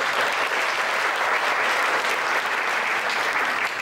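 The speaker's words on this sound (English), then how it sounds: "Y'all give another round of applause" Dense, even round of applause from the crowd at a hall of fame induction event, a steady wash of many hands clapping at close range with no break.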